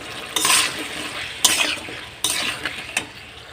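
A spatula scrapes and stirs salted masala in a hot pan for a magur catfish curry, three distinct stirring strokes with soft sizzling in between, close and clear with no talking.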